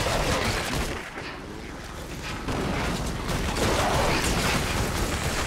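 Gunfire from Fortnite: Save The World as barrels are shot out, with dense rapid bursts of shots and impacts continuing loudly across the whole stretch without a break.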